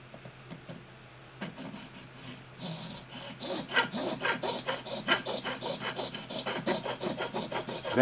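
Nut files rasp slots into a bone guitar nut for a Martin-style acoustic kit guitar, starting with sparse light strokes and building to a steady, close run of repeated back-and-forth filing.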